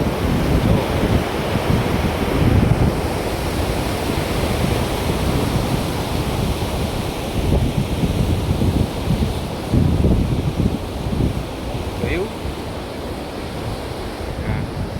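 Water of the Machchhu river flows past in a loud, steady rush, mixed with buffeting wind across the microphone.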